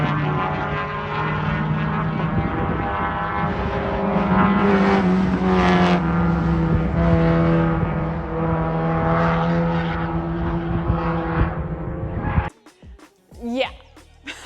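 A Mazda Miata race car laps a racetrack, recorded from a truck bed. Its loud engine drone holds steady and changes pitch for about twelve seconds, then cuts off abruptly into brief handling noise.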